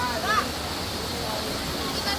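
A small waterfall gives a steady, broad rushing hiss throughout at a moderate distance, with a voice speaking briefly over it.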